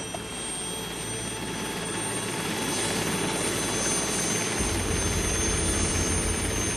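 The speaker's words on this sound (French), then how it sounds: "Dans l'hélicoptère à côté d'Igor, Stéphane Caplier." Inside a helicopter cabin, the rotor and turbine roar fills everything with a steady, loud, dense drone that holds unchanged throughout.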